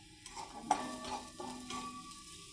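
A utensil stirring a dry curry of fried sandge (lentil dumplings) in a pan, soft scraping strokes over a quiet, faint sizzle, close and gentle with no voices.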